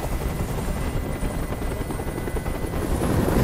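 A helicopter hovers overhead in the video game Detroit: Become Human, giving a steady, loud rotor roar that fills the whole stretch without pause and with no voices over it.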